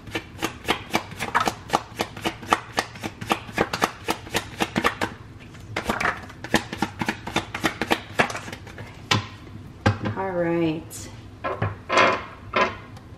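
Tarot cards riffled and shuffled in a long run of quick, crisp snaps and flutters, then a few cards slapped down one at a time, with a voice speaking briefly near the end.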